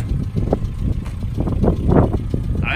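A 1973 Toyota Corolla engine runs close by, its rumble swelling and easing as it's revved harder, with no clear voices.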